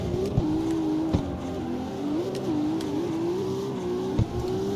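A car engine in the video game CarX Street on PC drones and revs steadily, its pitch rising and falling with a few sharp clicks or knocks, loud and continuous throughout.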